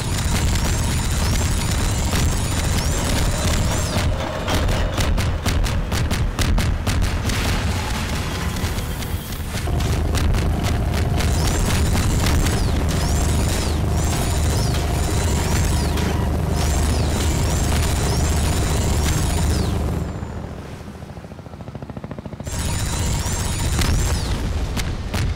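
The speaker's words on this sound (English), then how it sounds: "These explosion sound effects are so loud." Loud, dense explosions and crashes in the video game Half-Life 2: Cinematic Mod, a continuous barrage of booms and bursts that drops away briefly near the end before resuming.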